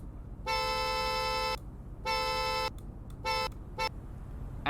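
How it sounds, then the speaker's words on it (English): Sir Rodgers Constellation car horn in the Roblox game Greenville, four honks of a bright buzzy tone, two long blasts followed by two shorter ones, loud and close over a low engine hum. "Here's what its horn sounds like."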